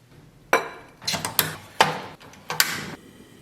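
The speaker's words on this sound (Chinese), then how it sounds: "拿水把勺涮一涮" A ladle being rinsed with water in a cooking pot: sharp metallic clanks and scrapes, about six distinct knocks in an uneven rhythm, close and fairly loud, with no talk over them.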